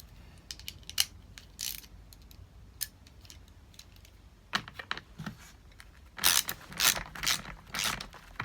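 A ratchet tightens the carburetor nuts on a Stihl MS 250 chainsaw, giving close, crisp clicking bursts: sparse at first, then a louder run of rapid ratcheting strokes near the end, with no voices.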